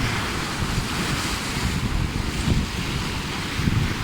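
Pacific Ocean surf crashing on the shore, a continuous loud roar of breaking waves and churning water with strong wind buffeting the microphone throughout.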